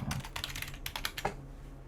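Typing on a Bluetooth computer keyboard, a quick irregular run of close crisp key clicks, clustered in bursts, then tapering off.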